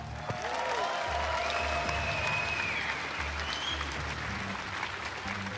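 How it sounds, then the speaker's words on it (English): Crowd applause at a GT World Series Nations Cup round in Berlin, steady clapping across the whole stretch with a brief spoken word near the start. "Please give a huge round of applause"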